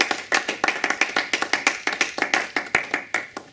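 A congregation claps in a steady, brisk rhythm at a church service in Rotterdam, roughly six claps a second, sharp and close, with no voices over it.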